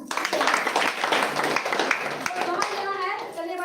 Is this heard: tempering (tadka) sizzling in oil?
no